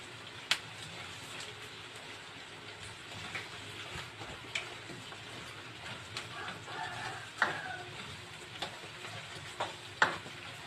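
Onions softening as they sauté in a pan for Ilocano igado, a low steady sizzle with occasional stirring scrapes and clicks, fairly quiet throughout.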